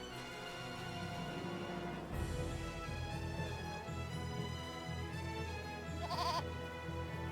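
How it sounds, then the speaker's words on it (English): Goats bleating in the video game Eternal Sonata, set on an open plain, with repeated bleats over a steady bed of game music and one brighter call near the end. "It's a goat. It's a bunch of goats."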